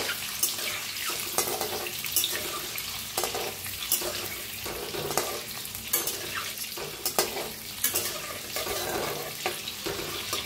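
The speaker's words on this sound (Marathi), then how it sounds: "आता अंडे जरा फिरवून घेऊया" Masala eggs being turned over in hot oil in a frying pan, a spatula scraping and tapping at a steady rhythm over a soft continuous sizzle, close by with no talking.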